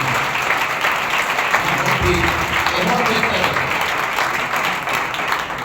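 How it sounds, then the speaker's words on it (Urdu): A large church congregation at a Sunday service claps continuously and loudly, a steady wash of applause with a few voices rising briefly underneath. "یہ تالیاں ٹھیک نہیں لگتی ہیں۔"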